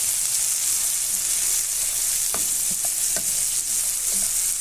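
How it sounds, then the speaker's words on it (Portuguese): Onion and bell pepper frying in a pan for farofa: a dense, steady hiss and sizzle that runs without a break, with a few soft clicks of stirring, heard close and alone with no talking. "vou deixar dourar nossa cebola, nosso pimentão, dar uma boa murchada"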